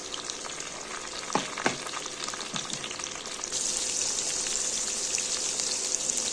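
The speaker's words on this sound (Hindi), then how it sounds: "तो अब हम डालेंगे इसमें एक चॉप्ड टमाटर।" Chopped tomato added to softening onions in a pan, frying with a steady sizzle that grows louder and denser partway through, with a few soft stirring knocks early on and no talk.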